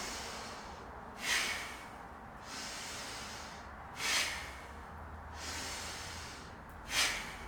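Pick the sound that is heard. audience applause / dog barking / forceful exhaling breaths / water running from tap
forceful exhaling breaths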